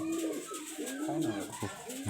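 A yellow-eyed high-flyer pigeon coos in a short sequence of soft, rolling, repeated calls close by, with a voice speaking alongside.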